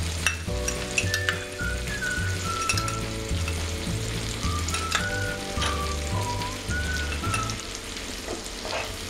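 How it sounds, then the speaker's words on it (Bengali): Ginger-garlic paste fries in a pan for a Bengali doi chingri prawn curry, giving a continuous close sizzle with faint stirring and low background music throughout. "এবার আমি আদা আর রসুনের পেস্টটা দিয়ে দেব।"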